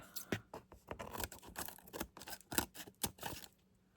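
Scissors snip paper while a journal is being crafted. Quick, irregular crisp cuts and clicks sound close and fairly quiet, with no talking.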